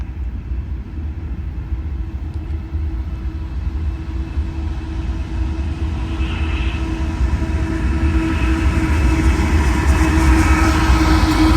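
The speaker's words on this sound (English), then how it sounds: "There's 2 trains. Oh, see, look, there's a train down there, train down there." BNSF freight locomotives pass at a distance near Mulvane, Kansas, giving a steady low rumble with a faint rail hum that swells gradually louder toward the end, no talk over it.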